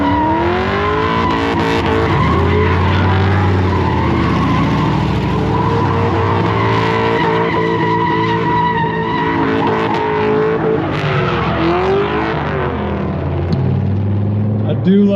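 A drift car doing a reverse limiter burnout at a drift circuit, with a loud bouncing rev-limited engine and squealing tires that continue throughout, and commentators talking over it.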